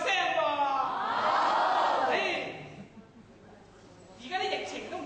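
Comedy show audience in Hong Kong roaring and shouting in a loud collective cheer that swells, fades, then rises again briefly.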